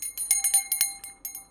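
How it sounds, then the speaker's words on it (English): Small bell rung repeatedly for a protection-clearing ritual, a quick series of bright metallic strikes with ringing overtones, fading toward the end. "bell protection clearing."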